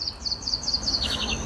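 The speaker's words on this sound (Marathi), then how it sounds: "चिमणीचा चिव चिव चिव चिव चिव." Sparrow chirps play from a loudspeaker in a garden of lights, a rapid run of high, bright chirps repeating in quick succession over faint background noise.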